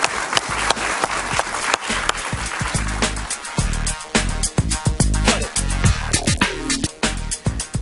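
Studio audience applause on a television talk show, a loud, dense burst of clapping that runs the whole length and thins toward the end.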